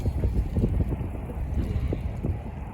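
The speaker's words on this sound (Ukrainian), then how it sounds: "Сьогодні такий вітер" Blustery wind buffeting the microphone with low rumbling gusts, steady and close, with no voices.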